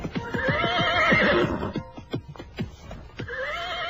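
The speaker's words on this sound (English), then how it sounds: "I pulled up my horse and dismounted." A horse whinnies loudly in a long shaking neigh, followed by snorts and a few sharp clip-clop hoof thumps, close by and alone without talk.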